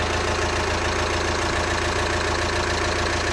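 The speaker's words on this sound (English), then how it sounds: "the engine's running, as you can hear." An Audi Q3 engine idles steadily and loudly up close after a timing belt replacement, a continuous rumbling drone with a faint rhythmic knock and no voices.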